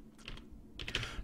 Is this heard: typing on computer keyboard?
yes